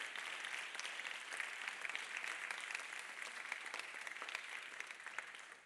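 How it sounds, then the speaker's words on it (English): Steady audience applause after a talk by speaker Chris Johnstone at a ChangeNOW 2022 conference session, a dense even wash of many hands clapping that holds at a moderate, fairly distant level throughout, with no talk over it. "Ladies and gentlemen, please make a round of applause for Chris Johnstone."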